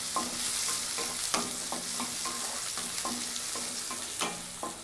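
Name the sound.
onions and capsicum frying in pan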